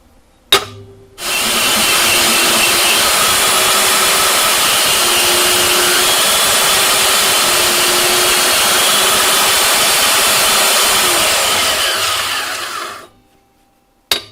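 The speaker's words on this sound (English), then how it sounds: "all you have to do is clean it up a little bit with a grinder" An electric grinder cleans up a freshly cut steel cope for go-kart spindles and brackets, running as one loud, steady, close whine for about twelve seconds before spinning down.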